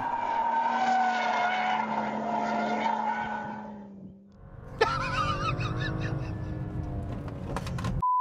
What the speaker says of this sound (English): of course we're going to do some drifting